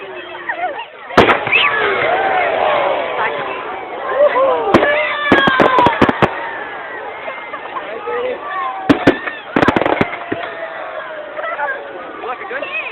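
Bonfire Night fireworks at Bergen Hohne Station in Germany explode in sharp, loud bangs and crackling pops, some in quick clusters, under a constant murmur of crowd chatter with people talking nearby.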